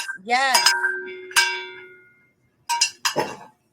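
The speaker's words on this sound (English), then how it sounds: "Cowbell for Lou." Bright metallic bell strikes, like a rung cowbell, ring out in two clear hits with lingering tones that fade, followed by brief talking.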